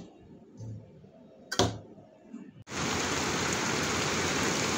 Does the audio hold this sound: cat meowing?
no